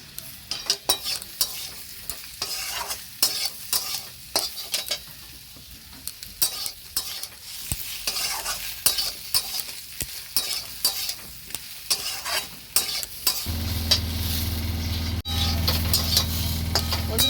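Slit green chillies hit spiced oil in a pan, sizzling and crackling while a spoon stirs and scrapes, with irregular clicks and knocks throughout and a steadier, louder frying hiss in the last few seconds.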